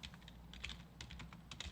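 Rapid, light clicking of computer keyboard keys being typed, steady and close, with a low hum in the background.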